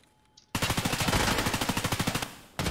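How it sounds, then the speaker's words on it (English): Rapid automatic gunfire from a scav in a shooter game, a loud close burst of about twenty evenly spaced shots, with a louder shot starting again at the end. "there's someone shooting at me from the bottom too, outside"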